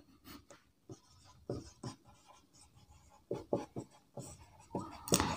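Pen or pencil scratches across paper as a teacher writes by hand during a lesson, with repeated short strokes and taps in an irregular rhythm, close and fairly quiet.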